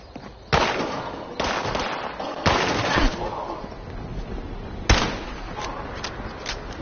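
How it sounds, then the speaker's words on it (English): Several loud, sharp video game gunshots crack out at irregular intervals, with lighter distant pops in between and a continuous rumble of background noise. "can you just hear all that gunfire?"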